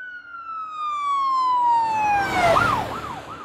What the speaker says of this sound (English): Then you can use audio to hear the high pitch of the siren